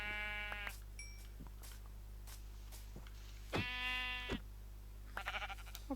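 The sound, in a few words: sheep bleating in a video game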